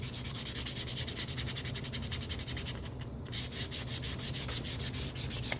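Rapid, rhythmic rubbing of sandpaper across leather on a travel bag being restored, close and steady, with a brief pause midway before the strokes resume.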